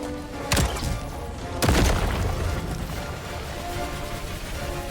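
Helldivers 2 combat in which a tank is destroyed: two heavy, booming blasts about a second apart, the second louder, with rumbling noise trailing after them.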